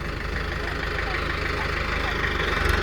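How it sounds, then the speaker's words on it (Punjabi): A JCB excavator's heavy diesel engine idles steadily with a low, even rumble and rhythmic chugging, close by and continuous throughout. "ਗੋਪੀ ਜਿਹੜਾ ਉਹ ਅੱਜ ਜੀਸੀਬੀ ਤੇ ਲੱਗਾ ਹੋਇਆ"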